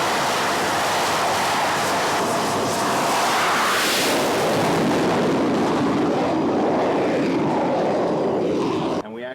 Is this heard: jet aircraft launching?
yes